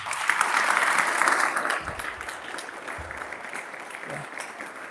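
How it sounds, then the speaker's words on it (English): A youth festival audience claps loudly in thanks after a talk on overcoming anxiety, with dense, sustained applause that gradually thins and softens toward the end. "So in order to say thanks, so we just applaud very loudly to thank Rasanath Prabhu."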